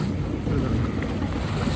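Floodwater rushes over a road in Jaffna in a continuous, broadband roaring wash, mixed with wind buffeting the microphone.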